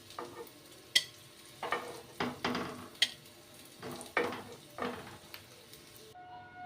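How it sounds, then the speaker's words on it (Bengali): Chopped ash gourd frying briefly in oil in a pan, with bursts of sizzling and stirring scrapes recurring about every second, close and fairly quiet, with no talk. "বেশি ভাজবো না, অল্প একটু ভেজে নেব"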